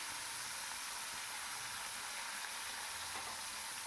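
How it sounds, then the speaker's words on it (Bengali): Shrimp fry in hot mustard oil in a wok, giving a steady, loud, broadband sizzle with no break and no voices. "এটা সর্ষের তেল দিয়ে রান্না হবে চিংড়ি মাছগুলোকে ভেজে নিচ্ছি"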